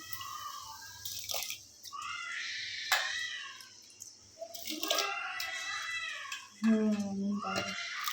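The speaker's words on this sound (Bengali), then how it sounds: "ওদিকে ছেলে কাঁদছে" A young son cries in a home kitchen during cooking, a series of high, wavering wails that come in bursts with short pauses, mixed with an adult voice talking.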